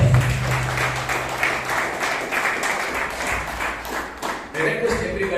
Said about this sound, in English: let's give our guests a wonderful round of applause.